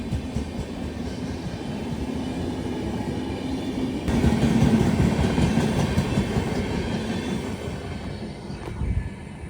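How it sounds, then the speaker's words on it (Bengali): An express train rolls slowly through a small rural station at night without stopping, a steady rumbling roar with clickety-clack of wheels on rails, close by and continuous with no voices. "ট্রেনটা কত স্লো করে গেল আর বেরিয়ে গেল"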